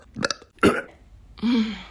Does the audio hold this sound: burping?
yes